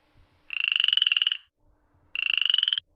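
A frog croaking effect from an alpine sound installation gives two rapid, rattling croaks, each about a second long with a pause between, loud and close with nothing else around.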